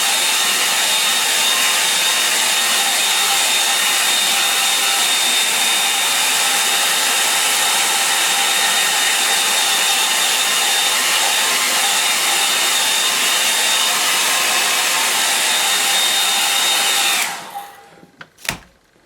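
A hair dryer blows steadily at close range, drying a painting of light on a lake, then cuts off near the end, leaving a few faint handling knocks.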